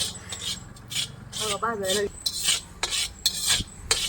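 Poppy seeds dry-roasting in a pan for homemade red chilli powder, stirred with a utensil that gives repeated scraping, rasping strokes in short bursts against the metal, close and fairly loud, with a brief voiced sound in the middle.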